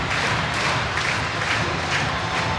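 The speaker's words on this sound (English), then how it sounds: "And the Steelers crowd is celebrating along with him." An ice hockey crowd roars and cheers after a Sheffield Steelers goal against the Fife Flyers, a dense, sustained wash of arena noise with no clear single voices.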